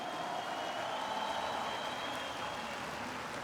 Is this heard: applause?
yes